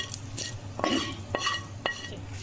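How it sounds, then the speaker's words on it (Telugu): Garlic and curry leaves fry in a pan for a cucumber-tomato pachadi, a steady soft sizzle broken by several sharp scrapes and clinks of a spoon stirring against the metal. "వెల్లుల్లి కొంచెం వేగినాక కరివేపాకు రమ్మ వేద్దాము"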